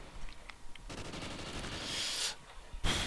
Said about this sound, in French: je tire toujours avant, mais il me tue toujours